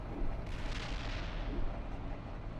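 Artillery fire in the Steel Beasts tank simulation game: a dense, rumbling barrage of distant booms and low explosions rolling continuously, loud and heavy throughout, with no talking over it.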